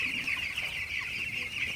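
Young broiler chicks in a shed at night give a dense, steady chorus of high cheeping and clucking, close and continuous without pause.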